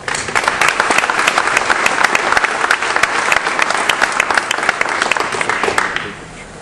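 A university audience at South Dakota State University applauds to welcome a speaker, dense steady clapping from a crowd for about six seconds before it fades away.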